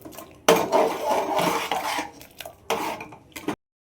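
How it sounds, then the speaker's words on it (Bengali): A traditional wooden hand masher, a ghutni, works through cooked dal for sambar in a pot, giving a couple of scraping, clattering bursts up close before stopping abruptly. "ঘুটুনি দিয়ে একটু ডালটাকে ঘুটে দিচ্ছি"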